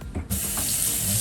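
Tap water running into a sink for a rinse while cooking, a steady close rush that starts abruptly after a brief clunk and carries on alone.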